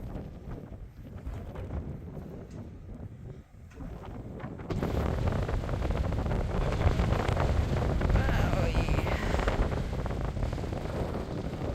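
Strong wind on a hilltop in Waterton Lakes National Park, Alberta, channeled by surrounding mountains, buffets the microphone in a steady roar that grows louder midway, with no talk.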